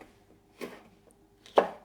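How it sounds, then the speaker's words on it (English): Two separate knife chops through sweet snack peppers being cut into sticks for hummus, the second strike louder and crisper than the first, close up and alone, done indoors during Sunday meal prep. "just cut that into sticks for my"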